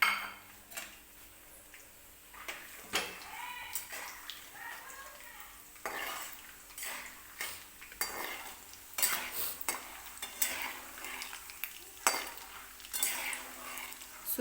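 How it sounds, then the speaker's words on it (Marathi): Peanuts frying in oil in a pan for lemon rice, a soft sizzle under repeated scraping and clinking of a spatula stirring against the pan, fairly quiet and close. "सुरुवातीला शेंगदाणे मी तळून घेणार आहे तेलामध्ये."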